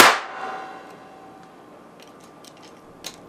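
A capacitor bank discharges into a satellite receiver card with one sharp, loud bang-like clang at the start, decaying quickly into faint ticks and small clicks.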